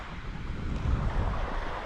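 Small, gentle waves wash onto a sheltered, lagoon-like beach at Paraty Mirim, Brazil, a steady close surf hiss mixed with wind rumble on the microphone and no voices.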